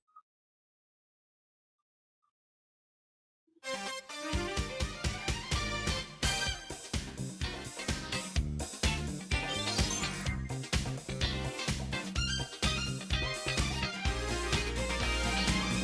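An intro jingle plays back as a solo MP3 track after a few seconds of silence, a loud, dense musical piece with a punchy beat and layered instruments filling the rest of the clip.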